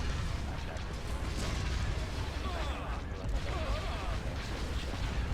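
Bombs burst in a continuous rumbling barrage during a space battle in the Star Wars strategy game Thrawn's Revenge: Imperial Civil War, heavy low booms layered under game chatter and voices.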